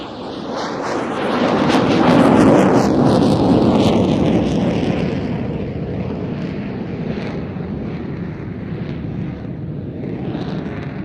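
A JF-17 Thunder jet fighter roars through an aerobatic display, swelling to a loud, broad rushing peak and then fading into a steady, distant drone with wind noise on the microphone.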